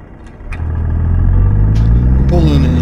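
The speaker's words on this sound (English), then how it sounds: "Got the Z Mod's N14 engine in it" A Peterbilt truck in American Truck Simulator with a modded Cummins N14 engine rumbles deep and loud, the engine note rising and building steadily with a few faint clicks over the top.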